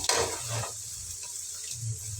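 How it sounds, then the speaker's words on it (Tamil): Chopped onions sizzle steadily in hot oil, with a short scrape of stirring at the start and again near the end. "பொடியாக நறுக்கின வெங்காயம் ரெண்டு சேர்த்து நல்லா வதக்கி விட்டுக்கலாம்"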